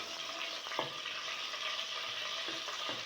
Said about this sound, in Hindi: इससे 10 से 15 सेकंड के लिए हम फ्राई करेंगे।